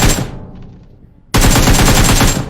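Rapid automatic gunfire from PUBG Mobile rattles out in loud dense bursts, a short volley that rings off and fades before a longer sustained stream of shots resumes.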